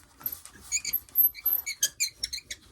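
A sewing machine squeaking while stitching a seam on a rifle barrel dust cover, producing a quick run of high, thin squeaks in an uneven rhythm, close and fairly quiet, with no talking.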